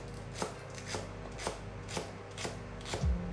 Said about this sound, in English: now we're just going to slice this up